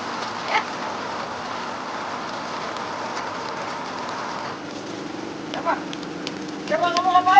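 Rain falls in a steady, even wash of hiss with a few soft, scattered taps, and the downpour continues under brief voices toward the end.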